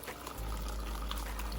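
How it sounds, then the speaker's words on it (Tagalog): Boiled pork intestines (isaw) being drained through a strainer in a home kitchen, with cooking water pouring steadily and splashing close by for the whole short stretch, no talk over it. "sasalain natin to. Tapon natin yung tubig niya naman."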